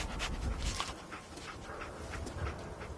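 Dogmeat, the companion dog in the video game Fallout 4, panting and sniffing in quick repeated bursts, close and moderately loud with a faint whimper, no talk over it.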